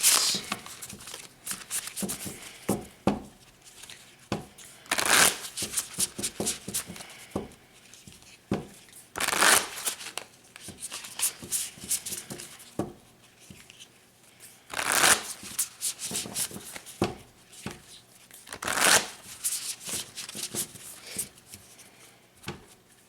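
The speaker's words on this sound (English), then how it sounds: "I also pulled out the Moonology deck, and we'll get a couple cards from that" Moonology oracle cards being shuffled by hand in repeated riffling bursts, with crisp papery flutters and brief louder slaps between quieter handling, close and alone without talk.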